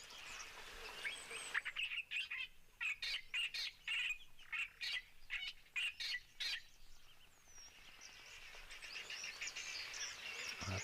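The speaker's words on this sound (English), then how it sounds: "A couple of the guinea fowl also just calling off in the distance." Several guinea fowl give repeated harsh, rhythmic calls from a distance, loud bursts clustered in the middle and fading toward the end, with other bird chirps around them in an outdoor setting.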